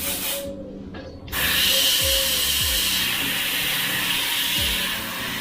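A Creos PS 290 airbrush sprays paint in a steady, soft hiss that starts after a brief pause and runs on evenly, close and fairly quiet, with a few faint clicks underneath.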